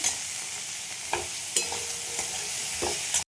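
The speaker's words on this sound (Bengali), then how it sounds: "সটে করে নেব, একদম লাল করে ভাজবো না।" Soybean chunks sautéing in a pan, a steady close sizzle broken by about five sharp scraping stirs at roughly even intervals, with no voices.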